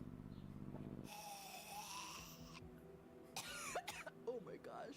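A few rough coughs and throat-clearing noises come through amid shuffling, breathy sounds, with a humming tone in the background.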